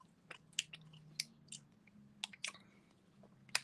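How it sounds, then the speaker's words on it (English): A stogie cigar is chewed close to the microphone, giving a string of irregular moist clicks and soft crunches over a faint low hum. "I'm going to finish chewing my stogie."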